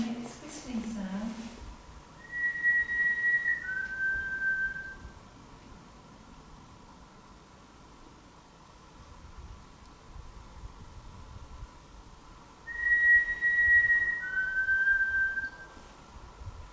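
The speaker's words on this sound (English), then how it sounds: "Can you make this whistling sound?" Two pairs of short, clear whistles in a dark corridor of an old asylum, each a higher note sliding to a lower one, faint and thin over a steady low hum, with a brief voice at the start.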